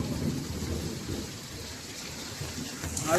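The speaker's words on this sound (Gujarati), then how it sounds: "વીજળી પણ એટલી આવે જો આમ જો ગાજે ખાલી અવાજ સાંભળો" Heavy summer rain pours down in a village, with a broad rumble of thunder and lightning rolling beneath the steady hiss of falling water. There is no talking.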